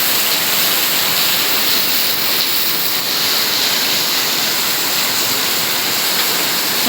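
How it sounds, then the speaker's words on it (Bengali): Heavy rain falls in a steady, dense roar during a downpour that caused flooding, an unbroken loud wash of sound with no voices. "দেখো কী পরিমাণে বৃষ্টি।"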